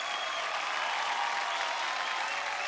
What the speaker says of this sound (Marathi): सगळ्यांसाठी जोरदार टाळ्या झाले पाहिजेत.